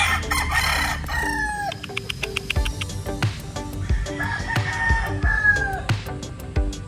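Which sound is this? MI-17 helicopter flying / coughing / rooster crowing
rooster crowing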